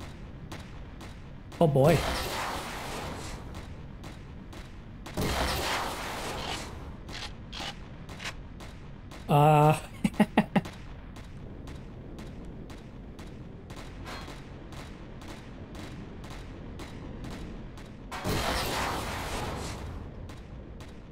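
Gunfire in the space-survival game Empyrion Galactic Survival, shooting down an enemy: several heavy blasts spaced seconds apart and a quick cluster of sharp shots in the middle, over a low mechanical background, with a man's brief remark.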